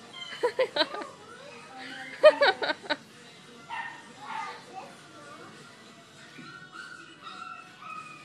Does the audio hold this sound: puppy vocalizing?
yes